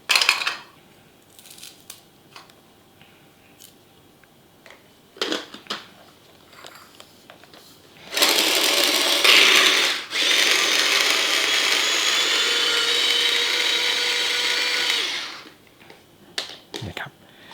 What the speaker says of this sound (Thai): มีเครื่องปั่นเล็กๆนี้ครับสะดวกดี